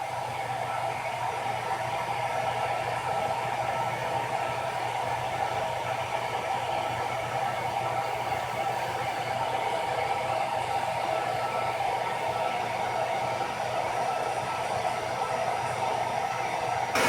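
A hair dryer held close to crayons to melt them blows in a steady, loud, close whirring hiss that runs unbroken throughout.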